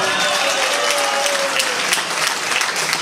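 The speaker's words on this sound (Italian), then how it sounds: "E qui ci vuole un applauso!" A crowd applauding at a charity event held by a Juventus supporters' club in Ortona, a loud, continuous burst of clapping filling the room from start to finish.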